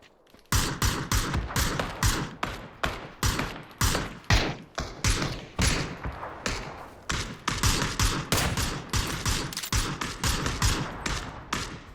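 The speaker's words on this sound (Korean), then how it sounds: "야, 여기 쏘고 있어." Gunfire in a PUBG squad match rattles off in dense, repeated bursts of sharp shots, loud and almost nonstop throughout with no talking.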